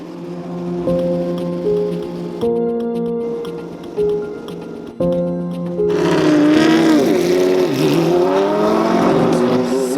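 Porsche LMP 2000 race car engine, heard close and loud through several sharp revs and gear changes, then building into a hard, sustained howl as the car drives on.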